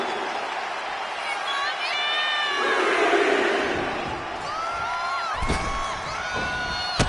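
A wrestling arena crowd in WWE 2K25 roars and cheers continuously, swelling and fading in the background with sharp impact thuds near the end.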